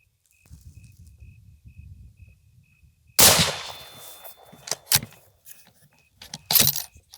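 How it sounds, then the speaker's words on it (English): A single loud .308 precision rifle shot cracks out sharply after a few seconds of quiet outdoor rustle, followed by a decaying echo and a couple of later clicks and clanks. "Going to shoot for the upper left target."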